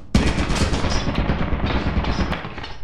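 Rapid, continuous automatic gunfire from a turret in the video game Lethal Company, loud and dense throughout with steady bursts and no talking.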